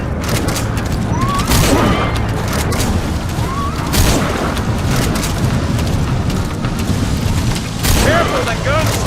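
Gunfire in Metal Gear Solid V: The Phantom Pain, loud, dense volleys of shots and booming blasts rolling continuously through a chaotic battle, with voices speaking over the din.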